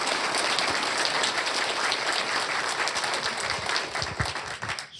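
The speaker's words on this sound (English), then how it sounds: "Let's give them one more round of applause." A room full of people gives a sustained round of applause at a county board of commissioners meeting, dense, even clapping that holds strong and fades out near the end.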